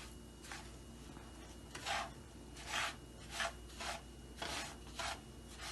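Semolina halwa stirred in a pan over low heat, a spoon scraping the grainy mixture in soft repeated rasping strokes that come in irregular bursts, close but faint with no talking.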